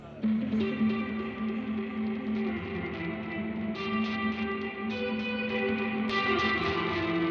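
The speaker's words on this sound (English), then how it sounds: "a delay going into a reverb, pretty basic, but really cool" A delay effect feeding a reverb: sustained tones smear into echoing repeats that wash into a long, lush reverb tail, layered and continuous throughout.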